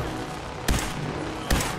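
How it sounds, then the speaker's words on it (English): Two sharp gunshots crack inside a church in the Fallout 4 video game, spaced under a second apart against a steady background of game ambience and low rumble. "There is some gunfire going on in this church."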